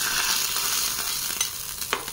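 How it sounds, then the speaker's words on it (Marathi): Hot spice tempering of oil and chilli poured over a cucumber salad, giving a loud, continuous sizzle that fades slightly, with a few small crackles near the end. "तर ही फोडणी आपण कोशिंबीरीत घालून घेऊया."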